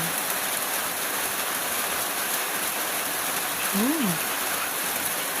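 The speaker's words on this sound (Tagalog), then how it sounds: "Maulan dito sa amin ngayon." Steady rain falls, a loud, even wash of hissing patter throughout, with one brief rising-and-falling voice-like tone midway.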